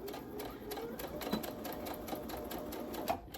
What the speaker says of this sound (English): And just sew that end there.